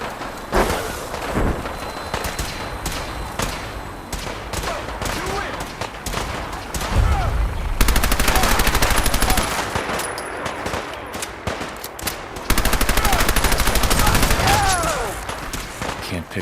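Sustained automatic gunfire and bursts of shots in the Fallout 4 Battle of Bunker Hill quest, loud and dense, with heavy volleys around the middle and again near the end, punctuated by thumps and game voices underneath.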